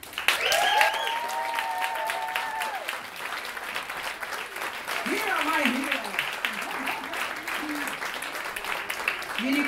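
A concert audience claps steadily throughout, a dense sustained applause with a voice speaking over it.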